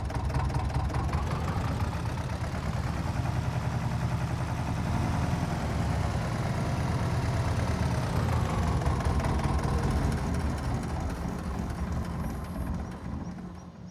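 A big Zetor tractor with a cab idles in a farming video game, its engine giving a steady, close, low rumbling drone that holds evenly throughout and thins slightly at the very end.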